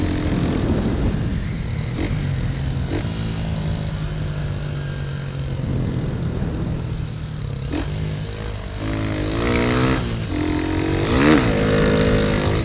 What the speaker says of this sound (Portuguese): A moto nem sobe mais